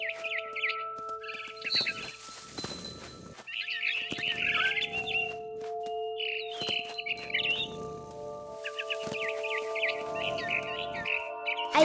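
A barn swallow chirps in the video game What Remains of Edith Finch, giving bursts of quick, high twittering calls over a sustained musical tone, with scuffling movement sounds between them.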